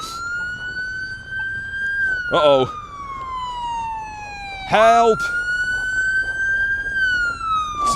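Two ambulance sirens pass close by, a wailing tone rising and falling steadily while two loud yelping bursts cut in, with a person talking briefly over them.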